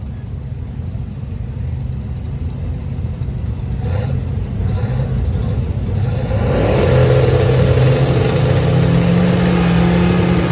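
A small block Ford single turbo stick shift drag car idles with a deep rumble, then revs up loudly and holds a higher, rising engine note at a drag strip.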